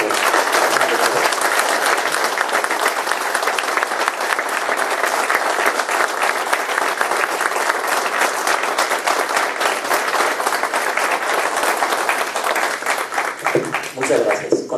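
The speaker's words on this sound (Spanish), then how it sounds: "yo les pediría todavía un aplauso más caluroso al doctor." An academy tribute audience gives the doctor long, dense, warm applause, steady and loud for nearly fifteen seconds before thinning out at the very end.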